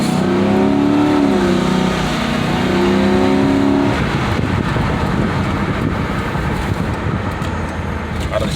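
Car with an engine misfire accelerating hard, its rising engine note climbing through the gears and then giving way to loud rushing road and wind roar, heard from inside the car.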